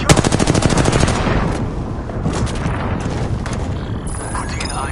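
Rapid video-game gunfire crackles loudly in close, dense bursts that slowly thin into scattered shots and mechanical clatter, with no talking over it.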